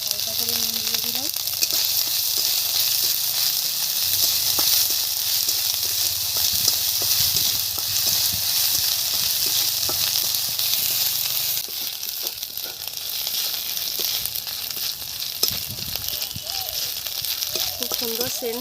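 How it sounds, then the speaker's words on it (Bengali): Ginger-garlic paste with a pinch of salt fries in hot oil, a steady close hiss and sizzle with scattered crackles and spatula scrapes throughout, and a voice speaks faintly at a few points. "তেল গরম হয়ে গেছে, আদা রসুন বাটাটা দিয়ে দিলাম"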